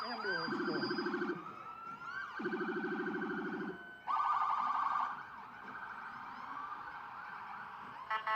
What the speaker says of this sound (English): They're followed by the ambulances from the Peekskill Volunteer Ambulance Corps.